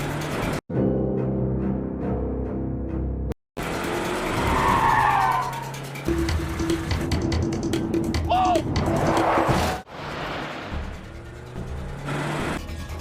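Cars chase each other in a dramatic film scene, with loud tire squeals and skids, roaring engines and abrupt cuts between shots, and brief voices in the mix.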